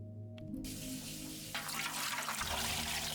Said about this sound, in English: Next, you just want to add some water.